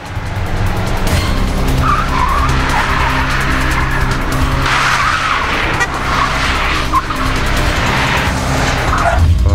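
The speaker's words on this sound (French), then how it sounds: "ces deux véhicules qui vont se mettre en vrille sans toucher le muret central" Two cars spinning out in a film stunt on a highway, loud continuous engine roar with long squealing tire skids rising and falling, close and intense throughout.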